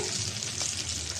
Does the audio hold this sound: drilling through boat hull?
no